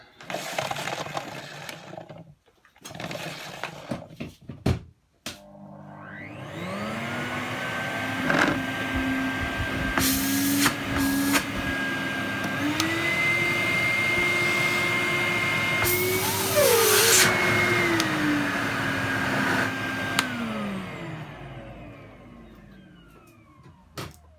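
A Numatic Henry vacuum cleaner, just cleaned after getting wet, is handled with a few clunks and then switched on, its motor whining up to a loud steady drone that shifts pitch slightly before running down and fading.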